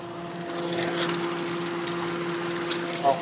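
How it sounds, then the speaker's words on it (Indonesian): A 1990 Nissan Sentra car engine idles steadily and close by, a continuous mid-pitched hum with a faint knock and a brief bump near the end, heard alone without talk. "Jadi sekali starter udah langsung nyala ya, mobilnya cek brung, starter langsung nyala."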